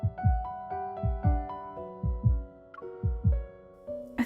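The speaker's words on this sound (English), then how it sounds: "I can hear a heartbeat racing" A racing heartbeat of rapid paired low thumps repeats steadily under soft sustained musical notes.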